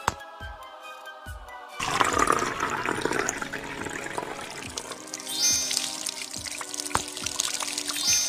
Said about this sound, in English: Pour some water in the bottle.